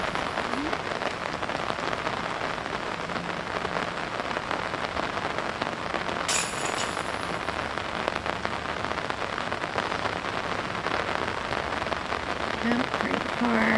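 Steady rain falls on an outdoor disc golf course, a dense even patter that holds constant throughout, moderately loud and close, with a faint distant rumble of thunder underneath.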